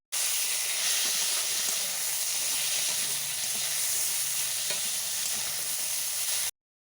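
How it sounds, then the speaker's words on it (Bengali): Moringa drumsticks and brinjal fry in a pan with a loud, even sizzling hiss that runs unbroken for several seconds and then cuts off. "এরপর দেব ধুয়ে রাখা সজনে ডাঁটাও আমি বেগুনের সাথে ভালোভাবে ভেজে নেব।"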